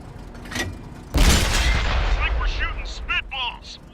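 A Super Pershing T26E4 tank cannon fires in World of Tanks, one heavy booming shot with a long rumbling tail, followed by metallic game effects.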